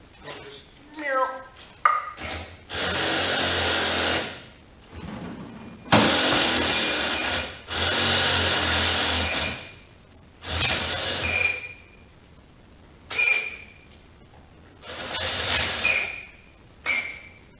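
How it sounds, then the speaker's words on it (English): A drill bores a hole through an oil sight glass on a wood stove being converted to burn waste oil alongside wood, running in several loud bursts of a few seconds each with short pauses between them. "you're actually supposed to drill a hole through this so you can see through it"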